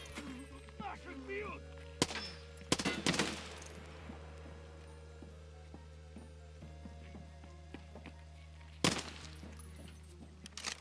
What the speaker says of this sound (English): especially once the machine guns start shooting